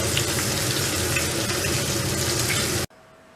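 Rack of lamb searing in a hot pan, a dense, loud, steady sizzle that cuts off abruptly near the end.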